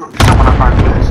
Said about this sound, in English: Call for fire on this target! This is loader 2-0, good copy. Cluster strike away.